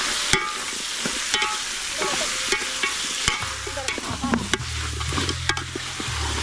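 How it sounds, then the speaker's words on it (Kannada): Head meat frying in a pan with a spoon stirring it, making a steady sizzle with a regular beat of scraping strokes and a low rumble toward the end. Close and alone, with no talk. "ಈಗ ತಲೆ ಮಾಂಸವನ್ನ ಸೇರಿಸ್ಕೊಂಡು ಒಂದು 10 ನಿಮಿಷಗಳ ಕಾಲ ಚೆನ್ನಾಗಿ ಫ್ರೈ ಮಾಡೋಣ."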